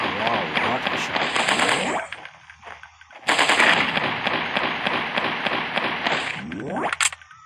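Rapid gunfire from a hunting rifle in the Dino Hunting Simulator mobile video game, two long sustained bursts of dense repeated shots with a short pause between, loud and close.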